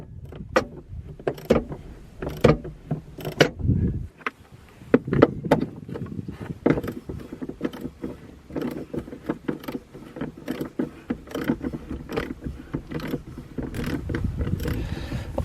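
Rapid metallic ratcheting clicks in irregular bursts as bolts are loosened on the centre console box of a Nissan NV200 van, close and moderately quiet, with a short pause partway through.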